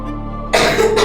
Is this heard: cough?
yes